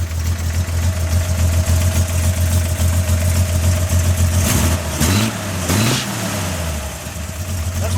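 A car engine idles as it warms up, a steady close, low rumble for most of the stretch, then its pitch wavers and shifts briefly before settling back into a lower idle.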